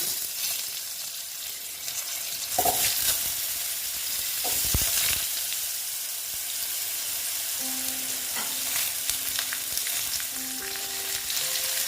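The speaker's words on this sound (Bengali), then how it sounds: "আলুগুলো এবার আমি একটু ভেজে নেব ভালো মতো" Potatoes fry in oil in a pan with a steady, fairly loud sizzle, broken by a few scraping stirs and clinks of a spatula, close up and with no talking.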